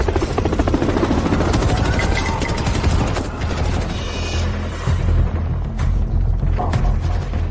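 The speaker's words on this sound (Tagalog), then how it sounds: "Asar, nakakuha pa sila ng helicopter airdrop." A helicopter arrives for an airdrop in a zombie apocalypse game: a loud, continuous rotor thrum and engine drone fills the whole stretch, with brief mechanical clanks and thuds mixed in and no talking.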